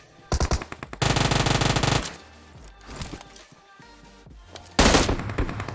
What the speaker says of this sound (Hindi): यहाँ पर चारों तरफ से भर के फायरिंग का साउंड आ रहा था